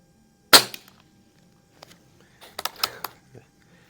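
Crosman 3622 air rifle firing pellets: one sharp, loud crack near the start, then fainter clicks and metallic handling sounds as it is cycled.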